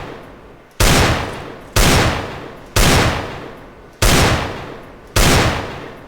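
Gunshots fired in a shooter video game on the Aim Botz training map ring out as five loud, sharp single reports spaced about a second apart, each trailing a short decaying tail, with no talk.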